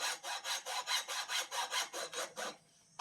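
A hand saw cuts through hard wood in steady back-and-forth strokes, about a dozen rhythmic passes close by, then stops abruptly.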